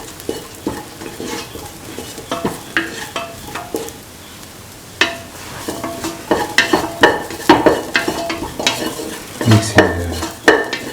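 Chicken fried rice with carrot, coconut milk and spices being stirred in a pan, loud repeated scraping strokes of a utensil over a constant sizzle, the rhythm quickening in the second half.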